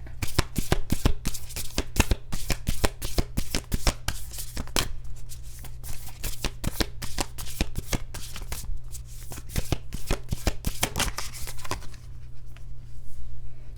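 Moonology tarot cards being shuffled in rapid, crisp riffling bursts, close and loud, continuing for several seconds before tapering off.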